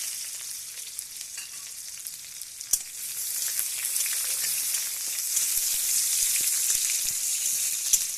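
Two dried red chillies and onion hit hot oil for a tempering and give a bright, crackling sizzle that grows louder and steadier, with a few sharp pops near the start.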